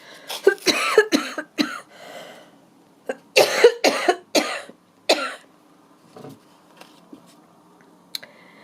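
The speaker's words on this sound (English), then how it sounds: "So, I'm guessing this is a COVID cough." Several harsh COVID coughs come in two close clusters, followed by quieter throat sounds and a faint click, nearby with no speech.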